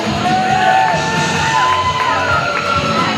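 A wrestling crowd at a live event cheers, whoops and yells loudly throughout. Individual shouts rise over the steady roar of the arena.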